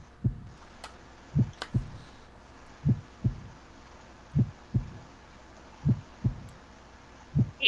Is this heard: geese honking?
no